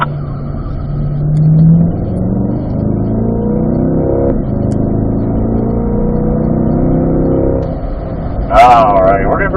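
A Corvette engine on a race track drones steadily through a braking and downshift into third, rising in pitch in places, with a brief higher surge near the end; a voice talks over it throughout.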